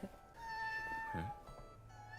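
A cat in a dubbed anime episode gives one drawn-out meow near the middle, fairly quiet and set against a soft background score, with no talking over it.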